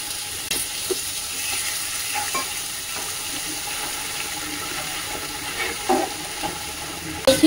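Grated ginger and tomato paste fry in a pan for a devotional offering meal, a low steady sizzle with scattered soft scrapes of stirring, fairly quiet and free of speech.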